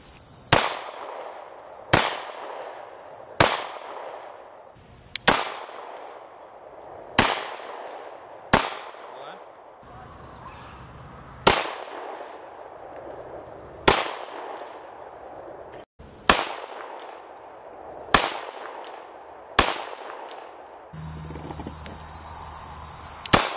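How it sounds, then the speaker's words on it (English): Smith & Wesson 9mm pistol firing Winchester White Box rounds, about a dozen sharp, loud single shots at irregular intervals of a second or more, each with a short ringing tail outdoors. "I'll be shooting Winchester White Box 9mm"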